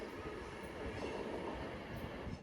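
A passenger train rolling through Stafford station, a steady broad rumble of wheels and engine at close range with a faint high squeal, continuous throughout.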